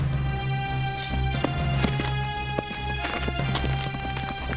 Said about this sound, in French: Garde les chevaux, Énaque.